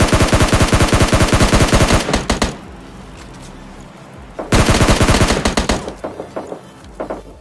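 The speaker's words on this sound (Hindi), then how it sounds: "सामने की तरफ से कुछ गन साउंड आ रहे थे" Automatic gunfire in the battle royale game PUBG Lite, loud rapid bursts of machine-gun fire lasting about two seconds, a quieter gap with a few scattered shots, then another long burst trailing off into separate single shots.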